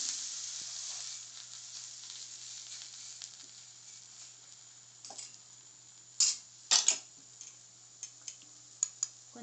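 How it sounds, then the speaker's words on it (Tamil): Adai fries in a little oil on a pan, a faint continuous crackling sizzle punctuated by scattered sharp pops and spits that grow more frequent toward the end, with no voices. "கொஞ்சமா எண்ணெய் விட்டுக்கலாம் அது சுத்தி அப்பதான் கிறிஸ்பியா வரும்"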